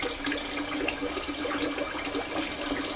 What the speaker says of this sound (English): A little bit of cool water.